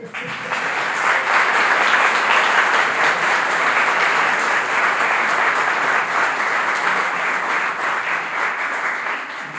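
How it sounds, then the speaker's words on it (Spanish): A theatre audience at a book launch breaks into sustained applause, dense and steady clapping from many hands that stays loud for the whole stretch and tapers slightly at the end. "quisiera que el primer aplauso fuera para él"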